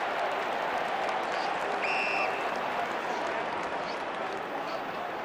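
Stadium crowd roaring steadily throughout an AFL match between Sydney and Port Adelaide in 2014, a dense continuous wash of noise with a brief whistle-like tone midway, while a commentator talks over it.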